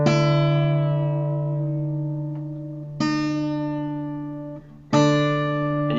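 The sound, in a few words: guitar first string being tuned down to D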